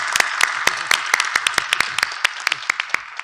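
A small audience at a university presidents' general assembly claps in thanks for the deputy prime minister and education minister, a sparse series of distinct, fairly sharp claps spread evenly over a few seconds.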